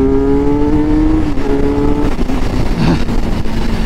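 A Kawasaki Z motorcycle engine revs hard and accelerates, loud and close, its pitch climbing then dropping as gears shift.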